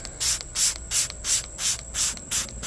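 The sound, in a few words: spraying cleaner onto a foam pad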